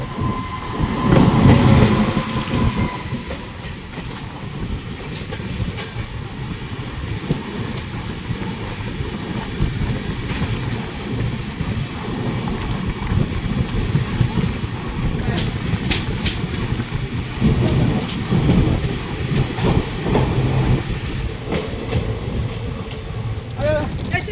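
An intercity express train rumbles past nearby, steady low roar with rattling wheels and occasional clanks throughout, loud and continuous.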